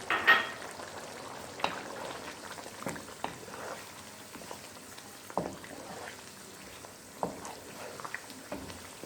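Chicken karahi with six sliced green chillies cooking in a pan, a soft steady sizzle broken by scattered small pops and stirring scrapes, quiet and close with no voices.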